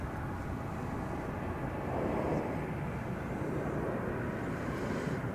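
A Boeing 737-800 arriving at Dallas Fort Worth airport, heard from beside the perimeter fence as a steady, fairly loud broadband jet roar that swells slightly partway through with no talk over it.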